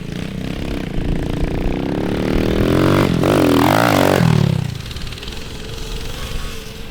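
A small Coleman mini bike engine revs and accelerates nearby in a backyard, rising to a loud strained whine mid-ride before dropping back to a steady lower drone.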